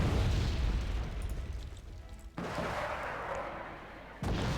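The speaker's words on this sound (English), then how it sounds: "Frickin' artillery strikes." Artillery strikes in the strategy game Wargame Red Dragon, a heavy continuous rumble of blasts that cuts off abruptly midway, then resumes, then a fresh loud impact near the end.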